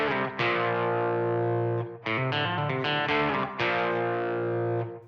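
Distorted electric guitar plays the power chord run from a rock riff, a sequence of loud, sustained chords with quick slides and brief breaks between phrases, close and alone.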